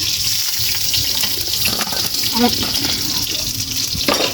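Bokul flower fritters frying in oil in a village kitchen, a constant close bubbling hiss with faint clinks, and a voice briefly audible over it.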